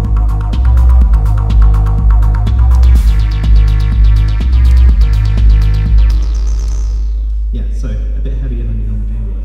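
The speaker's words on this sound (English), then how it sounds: "This cartridge has a three-channel analog synthesizer in it, so it sounds weird." Buzzy, throbbing analog synth tones from a Game Boy cartridge with a three-channel analog synthesizer pulse in a steady rhythm, with bright warbling overtones, ending in a few quick sweeping electronic blips.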